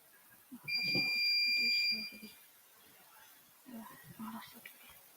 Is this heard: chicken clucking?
no